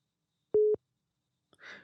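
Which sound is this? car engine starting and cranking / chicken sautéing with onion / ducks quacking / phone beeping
phone beeping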